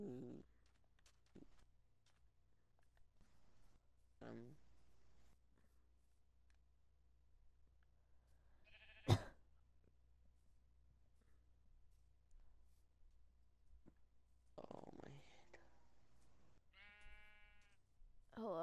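Sheep bleating in the Minecraft video game: a few short, quiet bleats scattered across a mostly quiet stretch, with one sharp click in the middle and a brief buzzy tone near the end.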